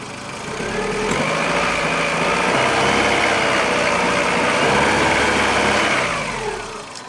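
A car engine idles steadily with its alternator under charging load at about 13.4 volts, a close, even drone that holds for about seven seconds, fading in and out at the ends.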